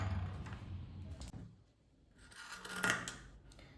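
Scissors snip through fabric while cutting a curved armhole for an abaya, giving quiet, close shearing and rubbing sounds with a sharper snip near the end.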